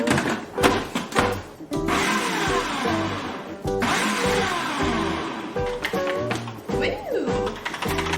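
A small food processor whirs in short, loud pulses as it chops black beans and red onion, the motor revving up and cutting off in bursts with rattling clatter up close.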